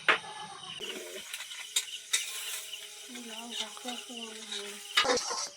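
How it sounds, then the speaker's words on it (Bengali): Scraping spoon strokes stir semolina frying in oil, a soft sizzle underneath, with faint tonal voice sounds in the background. "আর ওদিকে তেল দিয়ে তো বরফির জন্য সুজিটা ভেজে নেব"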